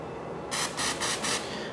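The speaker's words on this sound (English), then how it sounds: "grab some carburetor spray and spray it down" Four short hissing spray bursts in quick succession from an aerosol can of carburetor cleaner, close by, with brief pauses between them.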